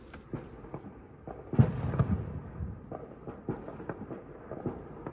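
Distant fireworks pop and crackle in a scattered series of thuds and bangs, with a louder rumbling cluster midway, heard from some distance outdoors.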